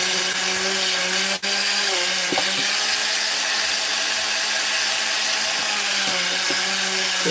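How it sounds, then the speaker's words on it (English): A Dremel rotary tool spinning a stainless wire wheel cleans a metal bearing seat on a chainsaw, a steady high whine with light grinding contact and a brief click, close and alone. "I do really like these stainless wheels for the Dremel"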